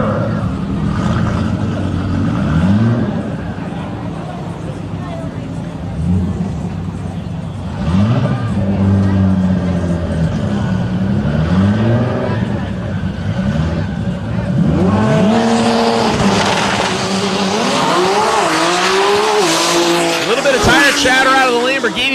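A black-and-green Lamborghini Huracan and a blue Nissan GT-R launch side by side in a dual-clutch-transmission drag race qualifying pass, engines roaring loud and close with tire squeal, revs climbing to a sustained full-throttle howl while a commentator talks over it.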